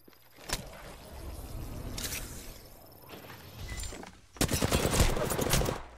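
Rapid automatic gunfire in a shooter video game, sharp close bursts of shots repeating in clusters, with a dense sustained volley near the end and scraping movement noise underneath.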